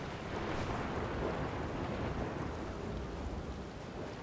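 Thunderstorm in the game The Outer Wilds: a steady, enveloping rush of rain with a low rolling rumble beneath, moderately loud and unbroken, with no voices.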